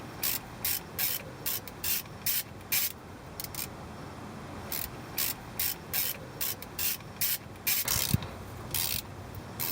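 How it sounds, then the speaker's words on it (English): A 1/2 inch ratchet clicks in quick repeated bursts while loosening differential cover bolts, each burst of ratcheting separated by short pauses, close up with no talk. "This is a 1/2 inch ratchet."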